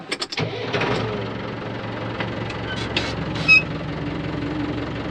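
Tractor (a 110) engine after a serpentine belt and compressor repair cranks with a few quick chugs, catches and settles into a steady, close rumbling idle, with a few clicks and knocks on top.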